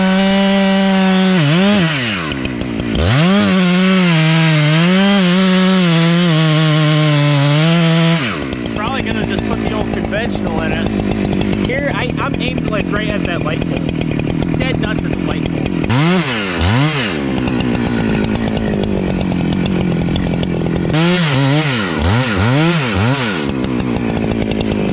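Motorised carving tool run at full throttle into basswood, a loud buzzing engine whine with rising and falling pitch sweeps as it bites the wood, continuous and close, with pauses in cutting.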